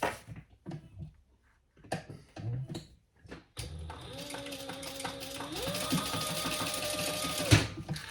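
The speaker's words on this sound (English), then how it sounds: "So we're gonna sew these together." After a few scattered handling clicks and bumps, a sewing machine starts stitching zipper pouch pieces together, a close, steady rapid whirring and ticking that runs for several seconds before stopping.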